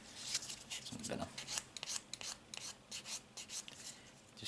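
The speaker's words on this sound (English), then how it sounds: "So all I do is just sand it, light sanding sponge." Light sanding of plastic parts from a 1/200 Yamato battleship model kit with a sanding sponge to clean off sprue points: a steady run of short, dry rasping strokes, close to the microphone and fairly quiet.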